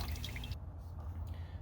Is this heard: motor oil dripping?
yes